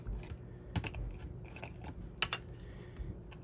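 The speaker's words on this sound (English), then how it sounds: "now that this is dried, I'm going to cut the overhang off of all the sides." A blade trimming the overhang from the sides of a small scale model of a dwelling, a string of quiet, close, irregular clicks and snips with no talking.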